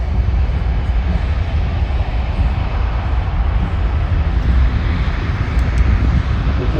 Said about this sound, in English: So you'll hear the engines spooling up in the C-78 now.